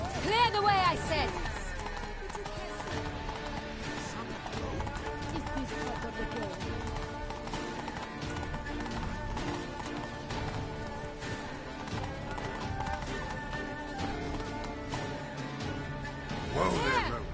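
Roach the horse gallops in The Witcher 3 on PS4, a steady clip-clop of hooves running under loud game music, with a brief whinny and a crash near the start.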